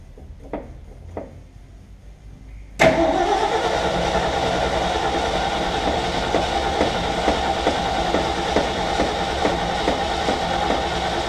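A Ford F750 haul truck running on bad gas: a couple of faint clicks, then the engine suddenly catches and settles into a loud, steady, rough idle that carries on to the end.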